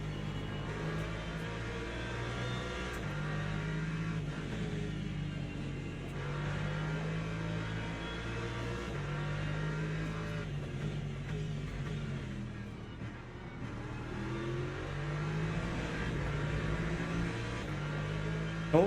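Race car engine in the Le Mans Ultimate sim at Laguna Seca, droning steadily with rising and falling pitch and shifts between gears, loud and continuous with a brief dip midway.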